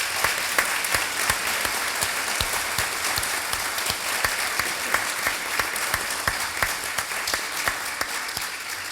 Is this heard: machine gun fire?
no